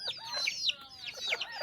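Chickens cluck and chatter in a quick run of overlapping calls, close by and fairly loud, with a faint farmyard background and no voices.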